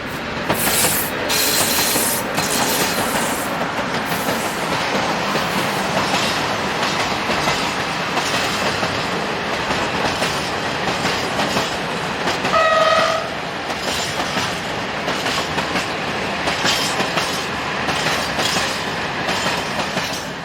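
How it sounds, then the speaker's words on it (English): A Class 232 diesel locomotive pilots a T448P shunting loco along a rail line, a loud steady rumble with rhythmic wheel clatter and a brief horn note midway, passing close by. "Here, one of their 5 Class 232s pilots a T448P shunting loco."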